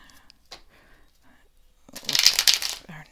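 Playing cards shuffled by hand in a quiet room: a short, crisp riffling burst after a couple of seconds of near silence with faint movement, ending with a soft tap.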